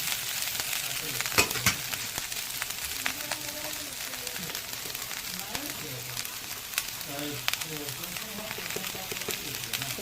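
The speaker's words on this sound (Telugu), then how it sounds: "ఇదంతా శుభ్రంగా మంచిగా కలిపేసి ఫ్రై అవ్వాలి కొంచెం." Dhekiya fern greens stir-fried in mustard oil, giving a busy, crackling sizzle with scattered pops and utensil taps throughout, while faint voices murmur in the background.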